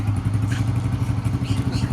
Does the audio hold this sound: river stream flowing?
no